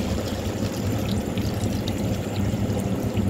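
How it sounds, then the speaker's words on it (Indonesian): Water poured into a pot of braising beef being cooked, a steady continuous splashing stream, close and fairly loud, with no talk. "Lanjut kita kasih air ya guys"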